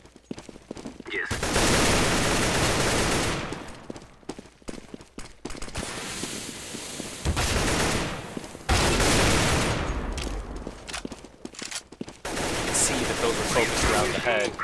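Sustained AK-47 bursts in the video game CS:GO, long loud rattling sprays broken by short pauses, with a voice faintly underneath at times.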